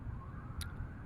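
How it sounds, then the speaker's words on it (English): City street noise at night with a faint distant police siren wavering in the background, steady low traffic rumble throughout and a brief sharp click near the middle. "you can even hear the fire, the police sirens"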